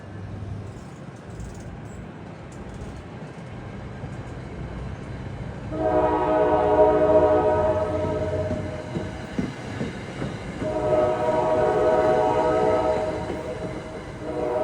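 A New Jersey Transit diesel train rumbles past with clattering wheels while a loud K5LA locomotive horn sounds twice in long, chord-like blasts.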